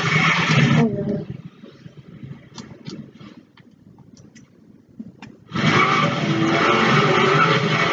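Dodge Viper racing a Corvette, with loud engine roar and tire noise at the start and again from about 5.5 seconds, separated by a quieter stretch of distant rumble and scattered clicks.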